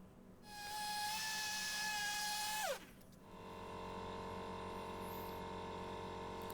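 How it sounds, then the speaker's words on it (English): A powered tool winds down from a steady high whine, then an orbital sander hums steadily on a turned wooden plate at 240 grit, close and continuous with no talking. "we switch over to the orbital sander, and up to 240 grit on that plate surface."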